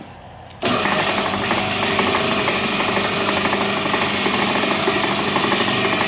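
A home-made sand muller for a backyard foundry switches on abruptly after a quiet moment, then runs with a steady, fairly loud motor hum and a busy mechanical rattle and clatter that carries on without a break.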